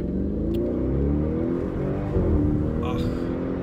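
A car drives steadily with a low, continuous engine rumble and road noise from inside the cabin, close and even throughout.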